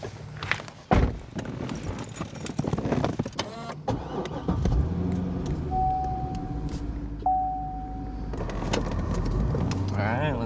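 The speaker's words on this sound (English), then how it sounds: "Let's head in and take it for a drive." A 2005 Chevrolet Corvette C6 clunks shut and cranks to life, its engine settling into a steady idle and low drive rumble, with a brief whine and a sustained tone in the middle.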